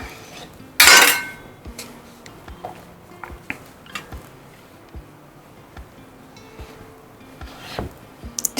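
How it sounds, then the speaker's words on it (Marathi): A knife cuts a hot chapati into pieces on a plate, with a loud clatter at the start followed by scattered light taps and clicks of the blade against the dish. "सुरीने कापून घ्यायचे तुकडे त्याचे"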